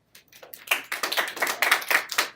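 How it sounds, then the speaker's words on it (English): A classroom audience gives a short burst of applause, a quick run of sharp, close hand claps building from a few scattered claps to a dense patter over a couple of seconds, with no talking. "Can I get a round of applause, please?"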